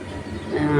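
Brief, close, low rumble of a train rolling along the track, growing slightly louder with a faint metallic whine.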